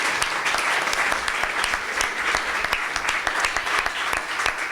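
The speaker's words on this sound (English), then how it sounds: "Now that's reason to give this panel applause." An audience applauds a panel at a humanities event, a steady, dense clapping of many hands with sharp individual claps standing out, loud and continuous from start to finish.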